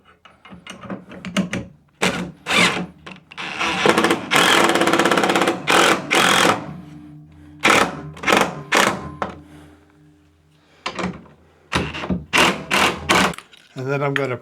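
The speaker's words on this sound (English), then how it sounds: "I'm using a 1/2-inch socket on these." A power driver drives large black lag bolts through a bracket into a wall with a 1/2-inch socket, producing bursts of loud whirring and ratcheting separated by short pauses.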